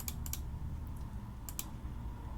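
Computer keyboard typing in short clustered bursts of quick clicks over a steady low background hum, close but quiet.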